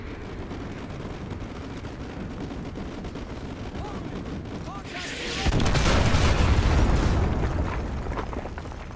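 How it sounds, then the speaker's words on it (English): Artillery strikes land in a Modern Warfare 2 Remastered campaign mission as a heavy, sustained rumble of explosions. The barrage swells out of a constant noisy battlefield bed and stays loud for several seconds. "Fire mission received. Artillery inbound. Coordinates confirmed. Firing."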